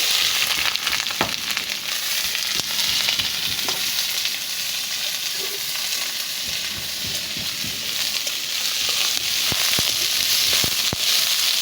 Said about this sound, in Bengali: পেঁয়াজ পেঁয়াজটা সুন্দর ভাজা ভাজা করে দিয়ে